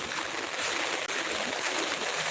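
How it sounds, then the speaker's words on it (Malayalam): Strong rushing water of a flooded river after a dam opening flows continuously, a broad loud roar like a swollen river surging past nearby. "വെള്ളം പോയിക്കൊണ്ടിരിക്കുന്നു എന്നാ നോക്കിയേ"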